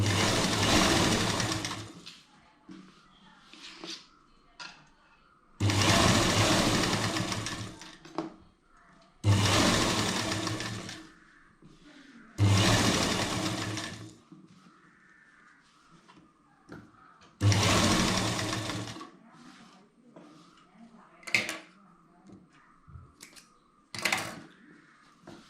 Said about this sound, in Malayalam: നമ്മളിതങ്ങനെ അങ്ങോട്ട് തയ്ച്ച് കഴിഞ്ഞു